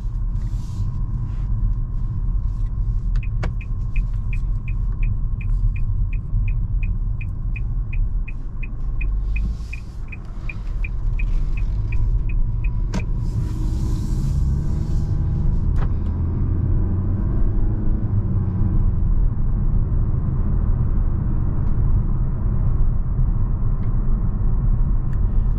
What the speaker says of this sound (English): let's go ahead and take this Altima on a drive and see how it does